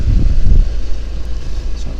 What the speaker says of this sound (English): So it's a bit windy as well, it's just not really helping